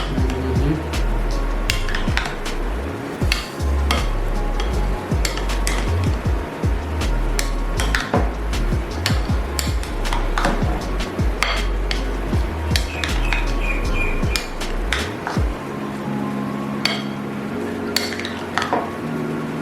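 Russian salad stirred with sauce in a bowl, a steady run of soft squishing and clinking spoon-on-bowl sounds close by, with brief speech over the mixing.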